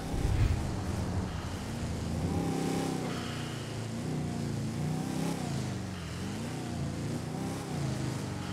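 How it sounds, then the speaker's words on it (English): A truck with a faulty turbo accelerating in a role-play driving game: a steady engine drone rises and falls in pitch through repeated revs, with a faint whine riding on top and no voices. "The turbo's like messed up in this truck."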